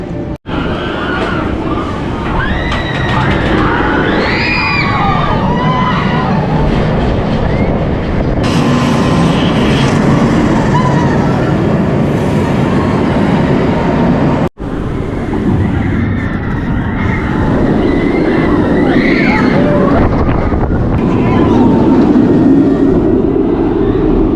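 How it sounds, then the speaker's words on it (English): The Nemesis Reborn roller coaster train runs round its newly retracked course at Alton Towers after dark, a steady loud roar and rumble of wheels on track lasting over twenty seconds with a brief break midway. "We just saw the first train of the day going round."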